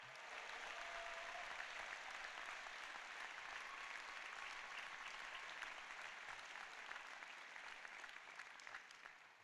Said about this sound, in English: I'm gonna ask us to give one final round of applause for the parents